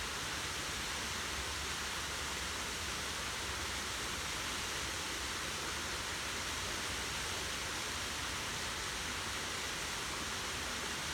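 A desert waterfall gives a constant soft hiss of falling water, even and unbroken, fairly faint and with no voices.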